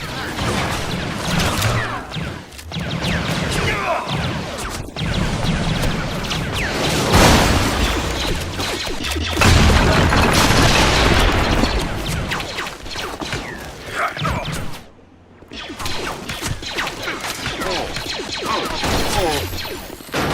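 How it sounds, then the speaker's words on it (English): Grenade explosions blowing up a generator in a video game: a run of loud booms and crashing bursts with debris rattle, dense and chaotic over the whole stretch, with a brief drop to near silence before more blasts. "Use your explosive grenades to blow that generator."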